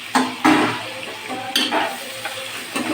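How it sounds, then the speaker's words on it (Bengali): Chopped tomatoes fry in hot oil with a steady sizzle, broken by a few sharp scraping stirs near and loud throughout. "আমি একটু টমেটো দিলাম, টমেটোর কুচি কেটে দিলাম, দিয়ে তেলের মধ্যে"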